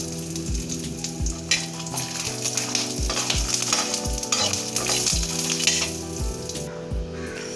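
Curry leaves being stirred in a hot pan for idli podi, with a steady sizzle and repeated scraping strokes of a spoon against the pan at an even rhythm, close and fairly loud.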